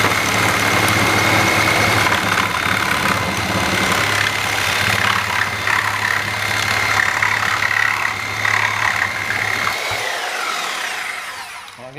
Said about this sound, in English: Cutting wood with quite a few nails.